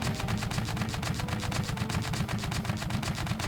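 A gatling gun mounted on a tank in Scrap Mechanic fires a steady, evenly spaced stream of rapid shots at a moderate rate, loud and continuous with no talking.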